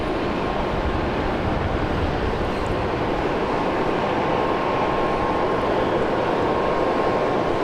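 A Philippine Airlines jet landing on runway 19 left at Brisbane Airport gives a steady, loud broadband roar that holds evenly throughout, with no talk.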